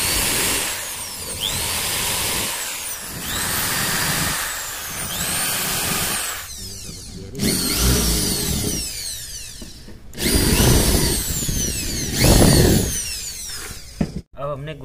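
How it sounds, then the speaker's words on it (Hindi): A power drill bores holes into a wooden plate for mounting under a cutter machine, several loud whirring bursts of a few seconds each, rising and falling as the bit bites, with pauses between. "अब हम इसके अंदर ड्रिल मशीन से हॉल कर देते हैं।"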